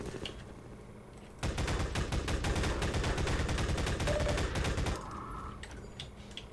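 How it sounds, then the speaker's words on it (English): Video game gunfire: a loud, rapid burst of automatic shots, like a machine gun rattling steadily for several seconds, then cutting off into quieter game ambience with no one talking. "Who is still shooting?"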